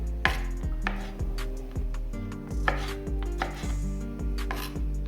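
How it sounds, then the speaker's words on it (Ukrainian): A knife chops washed, dried fruit into small pieces on a cutting board, making a quick, steady run of close, crisp knocks that go on without a break for the whole stretch. Nobody talks. "Наріжемо їх на маленькі шматочки."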